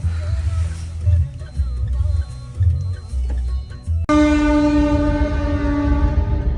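A freight train rumbles past at close range, then a loud sustained horn blares over the rolling rail noise.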